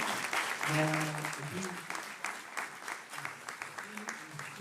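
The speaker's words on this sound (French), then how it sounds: "Je crois qu'on peut les applaudir tous les trois." Audience applauding three speakers at a French talk on workplace integration, a scattered clapping that grows and fades, with a voice talking over it at the start.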